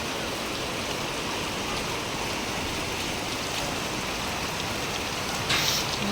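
Heavy rain pours in a steady, dense roar with no break or change in loudness, close and loud throughout.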